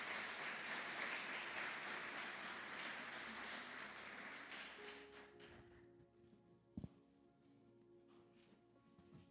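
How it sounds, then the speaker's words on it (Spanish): Church congregation applauding during a worship service, a broad wash of clapping that thins and fades after several seconds. A faint sustained tone and a single sharp knock follow in the quieter tail. "Dele un aplauso al Señor"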